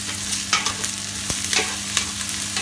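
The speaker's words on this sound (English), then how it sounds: "Give that a little stir." Onions and roughly chopped fresh garlic frying in a pan for a Persian ghormeh sabzi, stirred with a spoon: steady close sizzle broken by several short scraping stir strokes, no voices.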